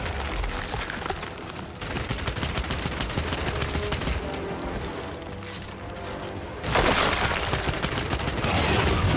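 Dense bursts of gunfire from the Gears of War 5 video game keep firing back to back, loud and continuous, then swell into an even heavier, fuller barrage toward the end.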